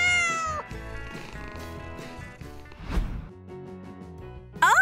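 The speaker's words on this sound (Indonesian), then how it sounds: "Waktunya main dengan anak kucing." A kitten meows several times close by, high thin cries in quick succession over a quiet indoor background.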